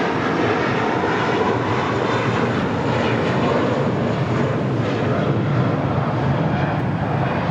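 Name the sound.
airliner taking off at LAX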